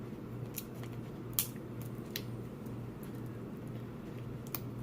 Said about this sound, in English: Let me try to use these scissors on this little one.